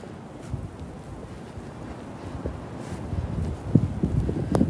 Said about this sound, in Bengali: স্নো সাথে বাতাস আছে